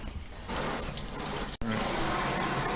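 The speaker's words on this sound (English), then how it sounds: "I think I'm going to add a little more water" Water pours steadily into a pressure cooker of ham and bean soup, a close, gushing stream with one brief break partway through before it resumes.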